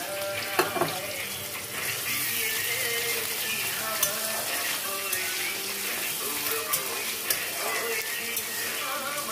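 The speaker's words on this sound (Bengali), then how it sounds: "এটা একটু ভাজা ভাজা করে নেব।" A continuous, fairly loud frying hiss from chopped garlic and green chilies in hot oil, with occasional small pops and faint background voices.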